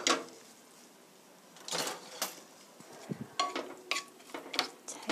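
A gas stove burner is turned on for cooking beef stew with zucchini, giving a series of sharp mechanical clicks and ratcheting ticks, the first loud and then a quick cluster near the end, close and otherwise quiet.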